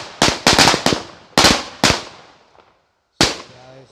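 A rapid string of sharp Diwali firecracker bangs, several in quick succession, then a pause and one more loud crack, close and echoing.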